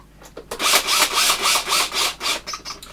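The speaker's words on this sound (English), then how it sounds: "This drill has a clutch on it." Power drill with a clutch driving a screw into an Epiphone Les Paul guitar neck during a neck shim job, close and loud, a run of rhythmic grinding bursts with brief dips between them, no talking.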